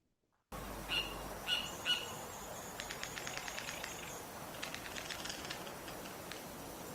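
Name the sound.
bird's very fast trill when upset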